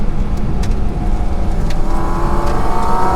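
A Porsche 718 Cayman GT4 RS Weissach engine and intake drone steadily and loudly from inside the moving car, with a low continuous roar and a slight rise in pitch toward the end.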